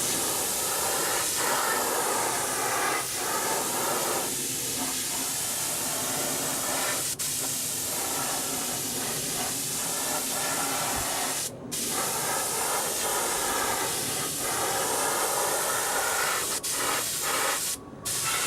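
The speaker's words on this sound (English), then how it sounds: "I'm not going to be able to spray the wing conveniently here" A spray gun lays a coat of silver paint onto a model aircraft wing for a Windy U Master 892 in a snowy, icy setting, giving a steady, close hiss with a few brief interruptions.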